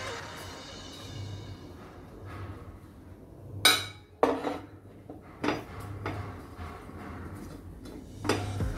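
Whole spices are tipped into a hot, oil-free cooking pot while making white peas chole. A spoon stirs them with scattered metallic clinks and scrapes, a few sharp knocks among them, close by and without talking.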